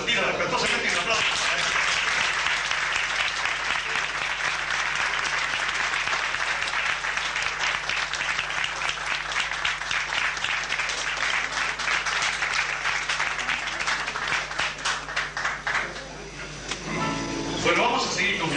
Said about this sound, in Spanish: Esa Valentín se retira respetuosamente y un aplauso.